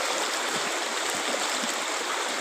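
Small river stream in Shillong flowing steadily, a dense continuous rush of water close by with no pauses and no voices.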